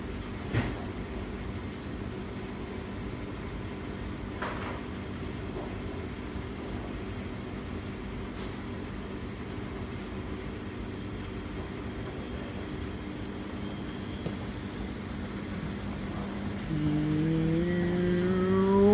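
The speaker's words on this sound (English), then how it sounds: "Second intermediate spin coming up." A Beko WS832425s washing machine starts an intermediate spin, a steady low drum rumble with occasional clunks that builds near the end into a rising motor whine as the drum speeds up.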